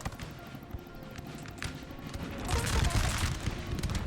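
Musket volleys crackle across a Napoleonic battlefield in Napoleon Total War at the Battle of Aspern, sparse pops building into a dense loud rattle of gunfire, with speech over it.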